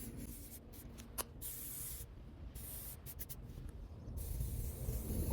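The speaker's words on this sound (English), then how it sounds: "so I will spray some grease on it." Short hissing bursts of grease sprayed from an aerosol can onto a VW Beetle spring plate assembly, several quick sprays then a longer steady hiss, close and fairly quiet with no talking.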